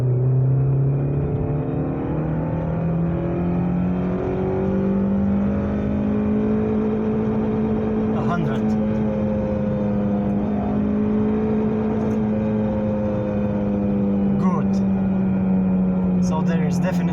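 Mazda 626 with an upgraded gearbox accelerates hard through the gears, engine note climbing steadily in pitch with brief dips at shifts, loud and close from inside the cabin.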